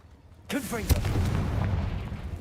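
Confringo fire spell explosion in Hogwarts Legacy, a sudden loud blast with a sharp crack just after it, then a sustained roaring rumble. A voice speaks over the start.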